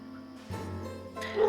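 A muscular guard-like dog gives a single short, close bark with a whimpering, yipping edge, heard alone.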